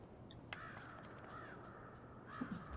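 Crows caw in the Lord of the Rings game War in the North (Der Herr der Ringe: Der Krieg im Norden), a few drawn-out calls over steady ambient background, moderately distant and fairly faint.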